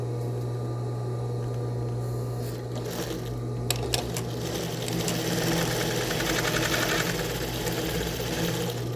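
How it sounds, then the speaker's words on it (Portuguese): A sewing machine stitches fabric in a steady, continuous mechanical whir with fast rhythmic clatter, fairly close and running on its own without speech, while attaching buttonhole or snap tape. "E aqui é só costurar."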